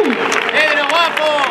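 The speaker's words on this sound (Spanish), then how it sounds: "¡Un aplauso para nuestro técnico de luces!" An outdoor audience at a street performance applauds for the lighting technician, clapping heard beneath loud overlapping cheering and shouting voices.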